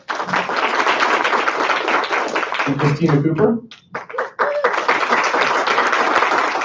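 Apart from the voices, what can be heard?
audience applause for introduced board members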